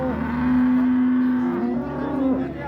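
A cow moos in a long, loud low call at a livestock market, followed by a second shorter moo, with faint market bustle behind.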